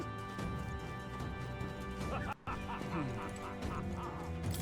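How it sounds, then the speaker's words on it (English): Guard dogs in the video game Metaphor: ReFantazio bark in quick repeated bursts over a continuous game soundtrack, broken by one brief dropout midway. "They've even brought guard dogs along."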